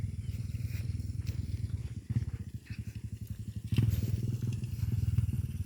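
A motorcycle on a downhill road near the Sea of Clouds, its engine putting out a rough, pulsing low chug that gets louder partway through, as though drawing closer, over outdoor noise.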